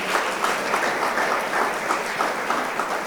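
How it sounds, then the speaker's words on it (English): Spectators give a round of applause for children taking part in golf, a full, even wash of many hands clapping that holds steady without talk. "give the golfers a round of applause"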